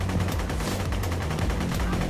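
Cannon fire in the Borderlands-style shooter game, a dense continuous barrage of loud booming blasts mixed with rapid gunfire, steady and intense throughout.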